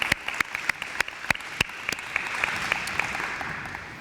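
An audience at a school district parent workshop claps in applause for law enforcement officers, sharp individual claps ringing out over a steady bed of scattered clapping for several seconds.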